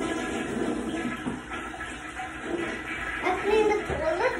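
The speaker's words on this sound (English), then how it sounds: "Okay, Kaden just flushed the toilet." A household toilet flushing, a close rushing gurgle of water with a refill hiss and some clatter toward the end, in a small room.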